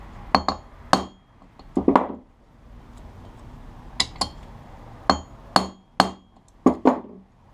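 Hammer taps on a wheel bearing collar being seated into a Honda CB750 motorcycle wheel, sharp metallic clinks in small irregular clusters, close and loud against a quiet room.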